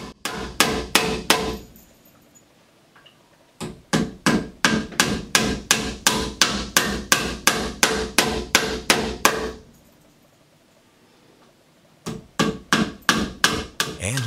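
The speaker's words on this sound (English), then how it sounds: "let's hammer some nails into this piece of wood." Rapid hammer blows drive nails into wood in three bursts of sharp, ringing strikes, separated by short pauses of quiet.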